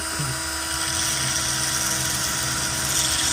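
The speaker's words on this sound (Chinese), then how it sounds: "可以当个小打磨机来使用" Small homemade grinder cut from an old saw blade, polishing a screwdriver or similar tool: a loud, steady high-pitched whine that runs unbroken throughout, close up.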